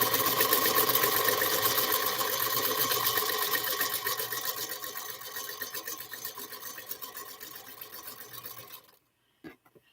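Sewing machine running steadily as it top stitches a folded fabric pocket for a small wallet, a continuous close mechanical whir that gradually softens before stopping abruptly near the end, followed by a few faint clicks.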